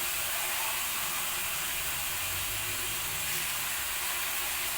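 Egyptian rice for koshari in a cooking pot, a steady broad hiss and faint crackle running continuously as the water is absorbed, fairly close with no talk.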